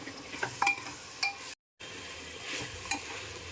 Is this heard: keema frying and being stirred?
yes